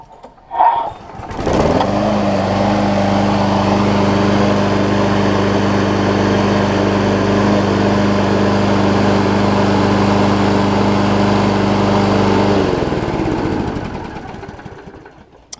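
A Scotts push mower with a Briggs Quantum engine cranks with a brief pull, then catches and runs at a steady, loud drone for about ten seconds before cutting out and winding down.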